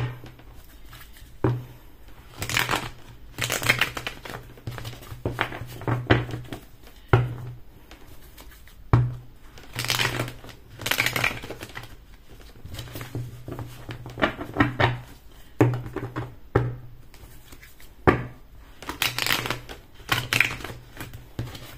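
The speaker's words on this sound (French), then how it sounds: "Je demande de bien brasser les cartes." Tarot cards are shuffled by hand in quiet, intermittent bursts of crisp riffling and soft slapping, with pauses and faint tapping between them, all close and fairly soft with no talk.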